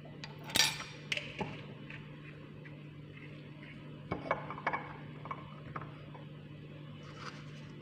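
A spoon stirs olive oil and Vaseline together in a bowl, giving faint scattered clinks and scrapes over a low steady hum, with a few brief louder taps and no talking.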